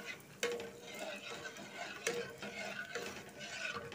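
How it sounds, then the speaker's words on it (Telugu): A spoon scrapes and stirs kurkure dough mixture in a pan on the stove, making faint, repeated scraping strokes with a few sharper clinks against the pan. "మనం తిప్పుకుంటూ ఉండాలి, గడ్డలు కట్టకోకుండా"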